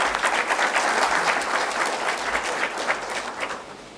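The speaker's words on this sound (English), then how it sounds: "Clap for yourselves." Sustained applause from an audience at an architecture school induction program, many hands clapping evenly for a few seconds before easing slightly at the end.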